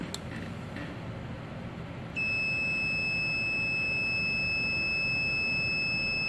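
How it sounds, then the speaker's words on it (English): A steady high electronic tone from a wireless amplifier remote during programming, coming in partway through against a noisy background hiss and continuing to the end. "One beep."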